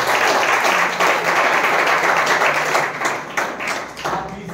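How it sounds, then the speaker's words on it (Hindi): A church congregation claps hands together during a Hindi sermon, a dense, sustained wash of applause at steady loudness that thins slightly toward the end. "ताली बजा के परमेश्वर को देता है।"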